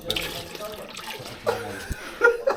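Water drains from an aquarium being emptied, a soft trickling and splashing with occasional louder gurgles, heard beneath intermittent nearby conversation.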